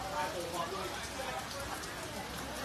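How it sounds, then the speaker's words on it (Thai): Heavy rain pours steadily on a surface in Nan, Thailand, a dense, even hiss that fills the whole stretch while faint voices murmur underneath. "ตอนนี้ฝนยังตกหนักอยู่นะคะ"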